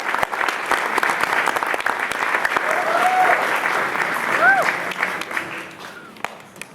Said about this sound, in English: So one more big round of applause because they work so hard.